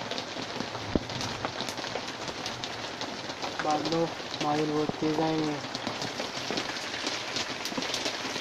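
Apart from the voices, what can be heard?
heavy rain falling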